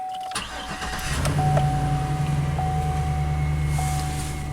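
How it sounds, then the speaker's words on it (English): A GM truck's engine cranks briefly and catches, then settles into a steady, loud idle with a constant rumble, heard alone without talk. "Just want to fire the truck up."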